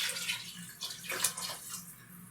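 Liquid poured into a pot of Polish sauerkraut soup (kapusniak), a short, soft splashing trickle heard close up with no talk.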